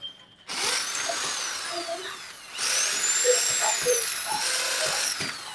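Power drill whining as it drives screws into a jalousie window frame, two bursts separated by a brief pause, close and fairly loud, with no talk.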